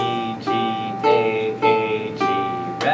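Ukulele picking a simple single-note melody, about six plucked notes in a steady, unhurried rhythm, each ringing briefly and then decaying, heard close up with no talking.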